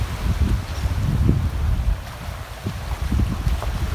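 Gusty wind blows by the water at a shore, roaring as steady, fairly loud buffeting noise across the microphone, with no talk over it.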